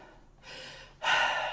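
Synthetic breath sounds inserted by a text-to-voice tool: a soft inhale, then a louder, breathier gasp-like intake, two breaths in close succession with no speech around them.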